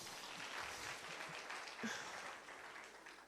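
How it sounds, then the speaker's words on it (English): Faint, distant applause fills a hall at an award presentation for a physiology quiz and workshop in Kigali, Rwanda, a steady wash of many hands with a brief voice partway through. "Please give him a round of applause again."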